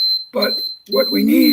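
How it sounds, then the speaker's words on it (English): A smoke-detector-style alarm beeps with a steady high electronic tone through the whole moment, continuing under a man's speech during a panel discussion. "that's my alarm going off"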